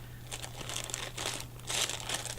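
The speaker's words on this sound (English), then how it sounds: "There will be crinkling." Packaging crinkles close up in quiet bursts of crisp rustling and crackling, handled continuously with no speech over it.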